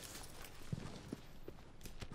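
Horse hooves clip-clop in Shadow of the Colossus on PS4, a few soft, uneven hoofbeats spread across two seconds over a low, steady background wash.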